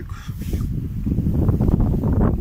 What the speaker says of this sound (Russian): Да, растения улетают, ветер, друзья.